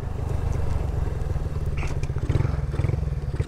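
A Shineray motorcycle rides in third gear, its engine giving a close, steady, pulsing putter that swells slightly toward the end, with no talking.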